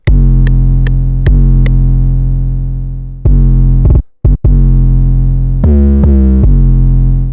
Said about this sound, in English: Then we've got the 808, which sounds like this.